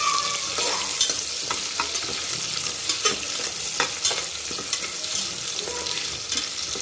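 Sliced onions for dum biryani frying in a pan while being stirred, a steady close sizzle broken by repeated scraping strokes and clicks of a spoon against the pan, with no talking.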